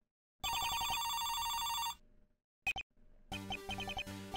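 A cell phone in the Apollo Justice video game rings with bright electronic chiming tones in bursts, a long trill, a brief blip, then another patterned ring, with no talking.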